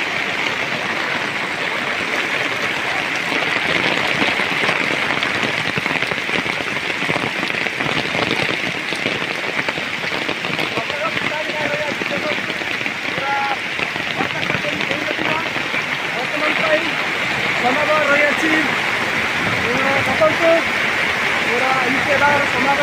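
Heavy rain falling near a village road and river, a steady hissing patter on surfaces and running water throughout, with someone talking intermittently over it.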